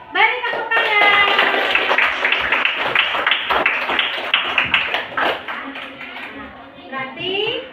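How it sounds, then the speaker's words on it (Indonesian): Classroom applause for group 3 as students clap together in a burst of rapid, uneven hand claps that swells early and tapers off, with children's voices and chatter mixed throughout. "Beri tepuk tangan."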